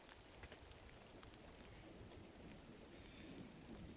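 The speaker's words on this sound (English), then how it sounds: "Oh, it's raining." Steady rain falls in the video game Gris, a soft, constant hiss of droplets at low volume with no talking.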